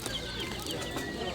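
Penned chickens give short clucks among other birds at a Severodonetsk pigeon and poultry fair, soft calls mixed into a steady hum of nearby people talking.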